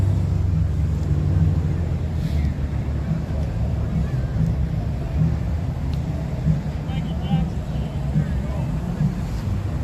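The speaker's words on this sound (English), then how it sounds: "Fire trucks behind him." Fire trucks roll slowly in a Santa Claus parade in Cold Lake, a low steady engine rumble close by under wind noise on the microphone, with a person speaking briefly.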